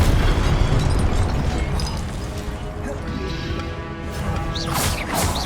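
A Confringo blasting spell goes off in Hogwarts Legacy combat, a dense, rumbling explosive burst with crackling debris over a busy game soundscape. Character voices shout spell names through the clip.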